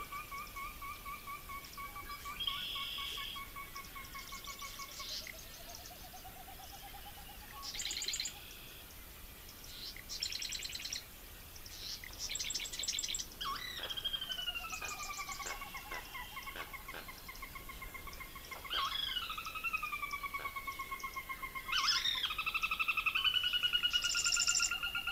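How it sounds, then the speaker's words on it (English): Pre-dawn chorus in a large marshland near Foam Lake, Saskatchewan: many overlapping bird calls and whistles, rising and falling tonal notes and repeated chirps, a dense continuous blur of wetland birdsong building louder toward the end. "There's this great big marshland complex out near Foam Lake, Saskatchewan. And here is a recording from 4 o'clock in the morning."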